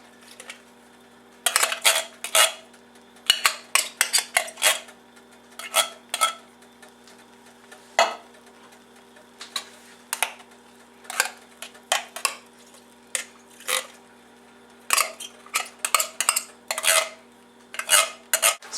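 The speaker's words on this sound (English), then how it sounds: "So now mix all this together," A utensil scrapes and clanks against a saute pan while green bean casserole ingredients are mixed, irregular metallic knocks and scrapes in close, quick clusters with short pauses.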